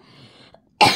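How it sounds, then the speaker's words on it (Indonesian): A single sharp cough bursts out loudly near the end, close to the listener, after a faint quiet lead-in. "ngevlognya ini juga agak nggak fit karena batuk-batuk nih"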